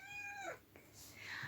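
A house cat gives a drawn-out meow that bends downward, then a short chirping call a moment later, both close and quiet.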